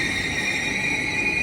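Mini Vande Bharat express, train 20646 from Mangalore Junction, running with a steady close rumble and a continuous high whine, no pauses and no voices.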